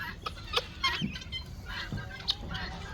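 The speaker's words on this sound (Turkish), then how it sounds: "Burayı çekmişken bir şu beçlerin nasıl et yediğini bir görmenizi istedim." Guinea fowl on a farm cluck and chatter in short, scattered calls while eating fat, several birds close by, with faint background noise and no talk.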